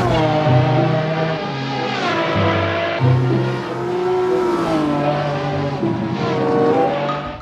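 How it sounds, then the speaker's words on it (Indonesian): A toy race car's engine revving sound, loud and continuous, with tones rising and falling in pitch over several seconds. Other harmonic sounds are mixed in. "Mobil balap."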